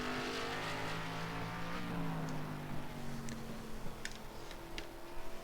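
Race car engine during a qualifying lap at the Bullring short track in the K&N Series, a sustained droning engine note with shifting pitch as the car passes, moderately distant, with a few faint clicks on top.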